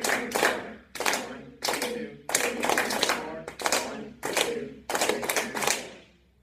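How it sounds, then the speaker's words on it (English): A class claps a counted rhythm together in a classroom music lesson, crisp clustered hand claps landing in regular groups of beats with short pauses between, close and clear. "So clapping out with me the first time."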